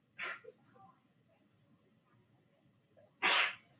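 Two sharp sneezes in a classroom during an algebra lesson, the first short, the second louder about three seconds later, with quiet room noise between.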